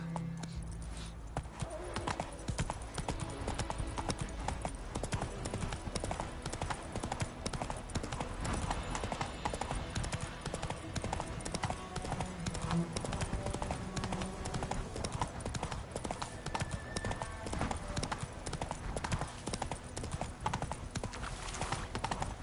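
Horse galloping in The Witcher 3, a steady rapid clip-clop of hooves running throughout, loud and continuous, with brief voices over the hoofbeats.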